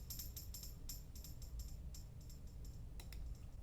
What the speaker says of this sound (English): the ping pong delayed tambourine,